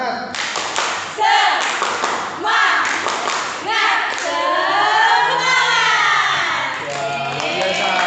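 A group in a school group-counselling session does a rhythmic spirit clap, with loud, synchronized clapping and shouted chants repeating throughout, close and energetic.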